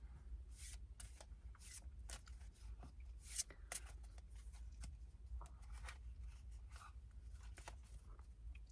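Cards shuffled close by, with repeated soft slaps and riffles in an uneven rhythm over a low steady hum.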